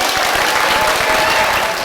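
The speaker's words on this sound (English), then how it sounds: "Let's give a big, strong round of applause for Mamie Weinberg." A crowd at the Hungry Ghost Festival in Los Angeles Chinatown claps loudly and continuously throughout a short burst of close, dense applause.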